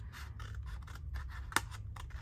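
Fabric scissors make a quick run of about eight crisp snips at a steady rhythm, close to the microphone. A low hum sits underneath during a crafting session.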